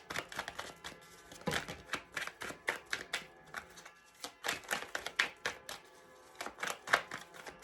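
Tarot cards are shuffled by hand in a steady run of soft, papery riffling taps and flicks, close but quiet, with no talking.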